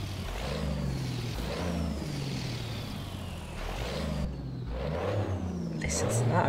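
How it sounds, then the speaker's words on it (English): Cummins M11 diesel engine in a Volvo VNL truck in American Truck Simulator, a deep bassy rumble with turbo whine rising and falling as it revs, loud and steady throughout. "we have also got the M11 Cummins engines, which, in my opinion, sound absolutely epic."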